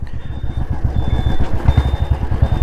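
A Royal Enfield Classic 350 thumps along on the move, its single-cylinder exhaust beating in a loud, steady, rapid rhythm with a low rumble and light mechanical clatter.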